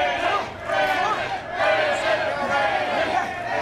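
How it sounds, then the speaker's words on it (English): A capacity crowd at a Ryse Wrestling show cheering a wrestler, a loud steady roar with swelling surges of shouting throughout. "Our capacity crowd getting well behind him here tonight."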